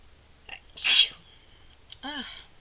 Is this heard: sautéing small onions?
no